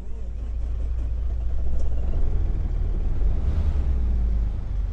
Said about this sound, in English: So turning on the truck.